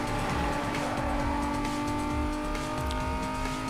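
Car racing in the video game Need for Speed Most Wanted (2005): a steady, loud engine drone with continuous revving and shifting tones and some tire noise, with no talk.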